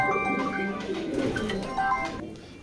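Rampuri pigeons cooing in a loft, soft rolling coos close by, fading slightly toward the end, with no one speaking.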